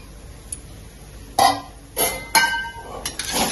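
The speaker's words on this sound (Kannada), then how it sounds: "ನಂತರ ಒಂದು ಮುಚ್ಚಳನ ಮುಚ್ಚಿಬಿಟ್ಟು ಸ್ವಲ್ಪ ಹೊತ್ತು ಹಾಗೆ ಕಾಯೋದಕ್ಕೆ ಬಿಡಬೇಕು" Metal clinks and clatters as a lid is set over a pan cooking sajjige rotti: a few sharp knocks spaced apart, with one louder rattling contact and smaller taps, over a quiet kitchen background.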